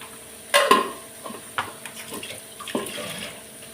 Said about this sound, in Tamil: இந்த மிக்ஸி ஜார் கழுவுன தண்ணியை இதில் கொஞ்சம் போட்டுக்கலாம்.